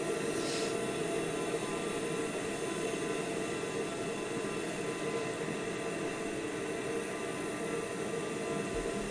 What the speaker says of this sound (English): This is the TBM 930. Slick looking plane, reverse thrust.